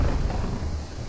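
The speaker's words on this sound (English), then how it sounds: "It's raining, too." Rain and thunder in the video game Twilight Princess form a low, rumbling wash with a steady hiss of rainfall, loud at first and easing slightly, with no voice over it.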